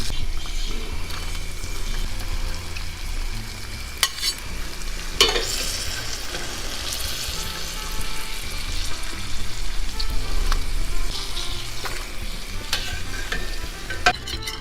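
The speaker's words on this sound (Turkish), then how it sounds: "Çok güzel kızardı tatlılarımız ve direkt hemen şerbetin içine atıyorum." Fried karakuş dessert pieces dropped into hot syrup, giving a loud, continuous bubbling sizzle with scattered sharp clinks and splashes throughout, close and busy with no voices.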